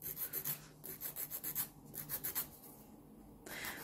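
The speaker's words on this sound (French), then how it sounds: "on va fignoler à la lime" A nail file works over a fingernail to smooth it during a nail set, quick rhythmic rasping strokes in close, soft bursts with a brief pause near the end and no talk.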